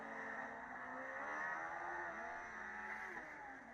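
Formula Student race cars run an endurance event at FSG 2015, with a continuous engine drone whose pitch sweeps up and down as a car accelerates and passes, moderately distant, with no voices over it.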